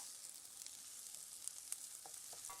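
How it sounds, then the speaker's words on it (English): Onions frying in oil in a home kitchen pan, a soft steady sizzle with faint crackles and a few small pops, heard alone at a low level. "we're going to fry the onions in the oil until they're nice and soft as well"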